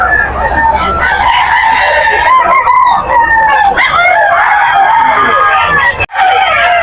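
A rooster crows repeatedly at a busy Bocaue pet market, loud and close. Its calls run over steady crowd chatter and voices of people talking nearby.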